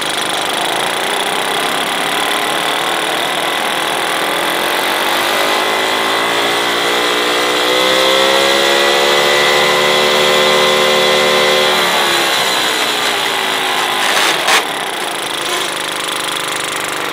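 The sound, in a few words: Solex moped engine running on test bench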